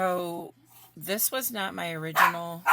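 A loud dog gives a short whining bark nearby at the start, then someone talks over the quiet room indoors.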